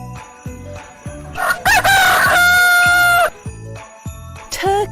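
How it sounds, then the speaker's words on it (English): A rooster lets out one loud, drawn-out cock-a-doodle-doo at close range, with a shorter call just before it and a brief one after, set over a regular rhythmic musical beat. "Rooster."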